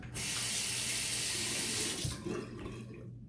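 A tap runs steadily into a sink for washing up after a haircut with a hair clipper, a loud, close gush that stops abruptly near the end before brief faint trickling.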